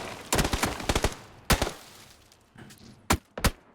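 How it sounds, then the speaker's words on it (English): Sharp gunshots in PUBG crack in irregular bursts, some in quick succession and others spaced apart, with quieter rumbling between them. "Marbo, hearing the opportunity, hearing the gunshots, takes a look around, spots Corsac and finishes him off."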